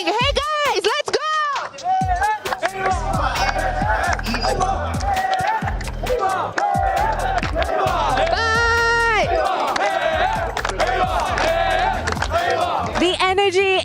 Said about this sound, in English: The energy in the crowd is explosive, it is spicy